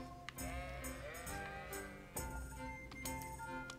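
Sheep in Kingdom Come: Deliverance give repeated quavering bleats close by, with light clinking sounds mixed in over a constant background hum, and no one speaking.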